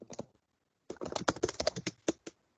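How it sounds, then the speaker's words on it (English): Someone types on a computer keyboard nearby, a short burst of taps, a pause, then a quick irregular run of crisp clicks, heard alone and quite faint. "Someone's like typing away."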